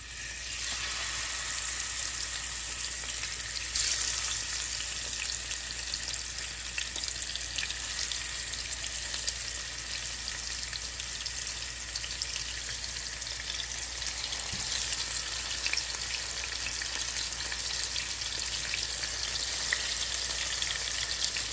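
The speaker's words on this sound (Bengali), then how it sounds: "এখন আমি এই তেলের মধ্যে মাছগুলো হালকা করে ভেজে নেব" Pieces of big fish frying lightly in hot oil for methi kali, a constant close crackling sizzle with scattered pops and spits running unbroken for about twenty seconds, no one speaking.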